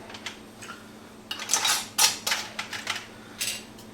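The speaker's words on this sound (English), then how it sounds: "we got our lids on, now we're going to put our rings on" Metal lids and screw rings are handled onto hot glass canning jars of homemade applesauce, giving a series of close, bright clinks and taps in quick irregular succession with quiet gaps between.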